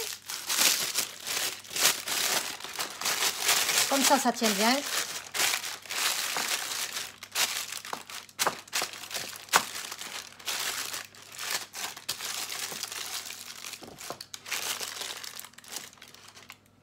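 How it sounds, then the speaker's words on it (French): Baking paper being crumpled by hand, a dense, continuous crinkling and crackling that goes on for many seconds up close, with a few brief words spoken over it. "je froisse le papier"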